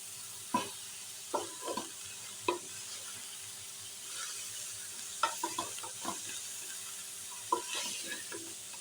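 Samosa filling frying in a pan, stirred with a spoon: quiet continuous sizzle broken by several sharp scraping clinks of the spoon against the metal, close by with no talking.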